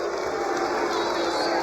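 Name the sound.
basketball arena crowd reacting to a foul call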